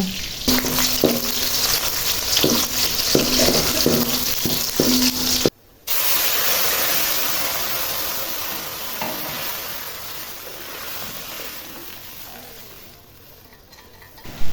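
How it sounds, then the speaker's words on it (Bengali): Fish bhuna fries on one stove while lentils boil on another, making a steady close sizzle with some bubbling. A few light utensil clicks come early, then a brief cut, then the frying sound continues on its own. "একটা চুলায় মাছ ভুনা করছি আর একটা চুলায় আমি ডালটা সিদ্ধ করে এভাবে ফুটিয়ে নিচ্ছি"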